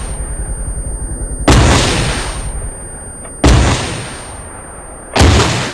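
Three loud rocket launches from a HIMARS launcher in ARMA 3, each a sharp roaring blast that decays over about a second, spaced roughly two seconds apart over a steady rumbling background.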